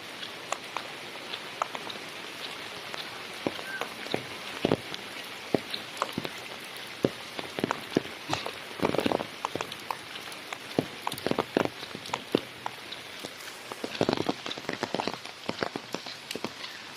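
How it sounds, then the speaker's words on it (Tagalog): Heavy rain falls in a steady hiss, with scattered sharper drops striking nearby surfaces throughout. "Nagkusog ang ulan."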